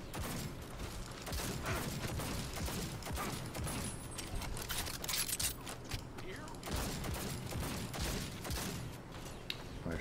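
Gunfire in Fallout New Vegas, modded, in a cave full of enemies: a steady stream of quiet, muffled shots and mechanical clatter running continuously under the game's ambient noise, fairly faint and distant.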